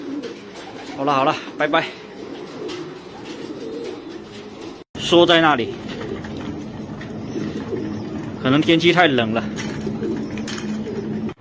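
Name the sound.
racing pigeons cooing in loft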